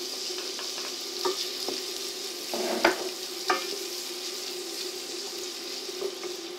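Onions frying in butter in a small pot give a soft, steady sizzle with a few stirring knocks and scrapes, moderately close, no voices.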